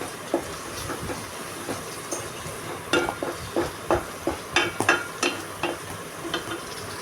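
A spatula scrapes and stirs a ridge gourd and shrimp curry in a pan, giving irregular knocks and scrapes that grow denser midway, set against a soft steady cooking hiss, with no talking.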